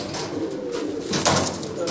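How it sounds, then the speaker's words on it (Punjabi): Pigeons coo softly nearby, low throaty murmurs with a brief rustle, over a faint background hum. "ਇਹ ਸੀ ਜੀ ਰਾਜਨ ਵਾਲੇ ਕਬੂਤਰ"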